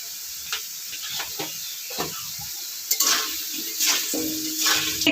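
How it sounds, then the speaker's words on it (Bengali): Potato pieces seasoned with salt and turmeric frying in hot oil, a soft steady sizzle with intermittent stirring scrapes, growing a little louder toward the end. "সেই টুকরো করা আলুটা প্রথমে ভেজে নেব"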